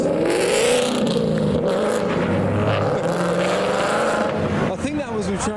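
A Ford Mustang 5-litre V8 accelerates at a car meet, its engine note rising loudly amid crowd chatter and other cars, with a sharp burst near the end.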